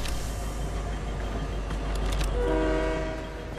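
A train in the Fortnite video game rumbles steadily nearby under a low engine drone, with a tonal horn blast rising near the end; no talk over it.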